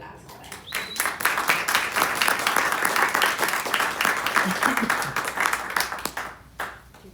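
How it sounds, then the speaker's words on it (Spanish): An audience applauds an author at a book presentation at the FIL 2023 book fair, with dense clapping that swells quickly, holds steady for several seconds, then thins out toward the end. "Así que un aplauso para él."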